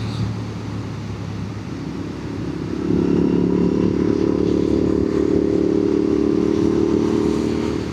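A Royal Enfield 650 motorcycle fitted with inter foot pegs is ridden on the road, its engine droning steadily and stepping up louder partway through, heard close with wind noise and no talk.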